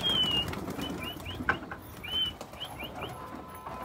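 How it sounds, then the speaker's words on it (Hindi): Pigeons flutter and shuffle close by as they enter a loft, with soft wing flaps, faint chirps and scattered movement throughout. "सारे कबूतर जा रहे हैं लॉफ्ट के अंदर"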